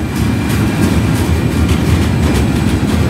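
A Canadian Pacific AC4400CW locomotive leads a freight train past at close range, a loud, continuous roar of engine rumble and rolling cars with rhythmic rail clatter.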